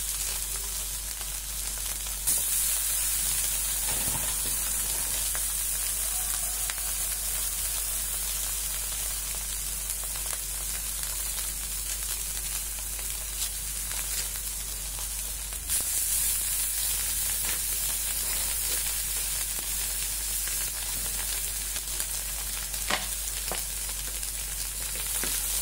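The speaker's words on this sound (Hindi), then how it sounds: "जो बचा था अभी उसको मैं फ्राई कर दे रही हूँ" Leftover surimi crab sticks fry in oil with a continuous, even sizzle, a dense crackling hiss that stays constant for the whole stretch with no speech.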